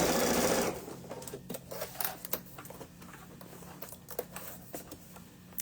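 A sewing machine stitching a backpack runs a brief burst, then falls to faint clicks and handling noises as the fabric is adjusted, close up with no talk.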